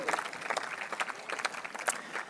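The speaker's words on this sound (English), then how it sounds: "big round of applause for all these elected officials" An audience at a State of the City address gives a round of applause to elected officials, a dense, lively clapping that holds steady throughout at moderate distance.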